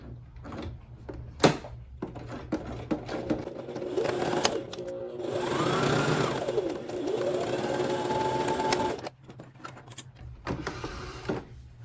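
A domestic sewing machine stitches a lining seam, giving a steady whirring run of several seconds framed by clicks and handling knocks, close and moderately loud, with no talking.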